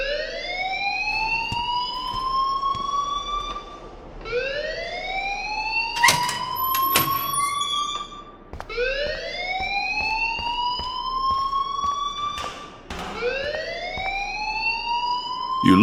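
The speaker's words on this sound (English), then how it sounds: "please turn off that alarm since that's your job" A fire alarm in the video game Life is Strange wails continuously, each rising siren sweep repeating roughly every four seconds, loud and steady throughout with brief clatters between cycles.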